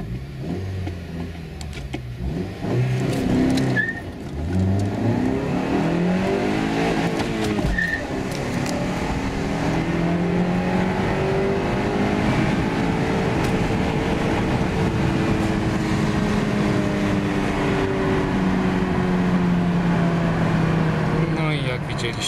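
A 2.0-litre petrol four-wheel-drive Honda CR-V pulls hard in second gear, engine note climbing steadily toward the rev limiter over about twenty seconds, with people talking inside the cabin over the loud, continuous drone.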